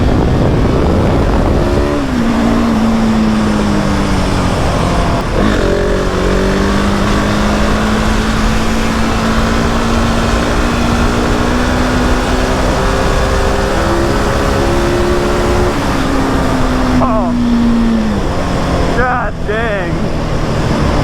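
A 2020 Husqvarna 701 SM motorcycle accelerates hard into a wheelie, its loud engine tone rising and shifting through the gears over constant wind rush, then a brief second rise near the end.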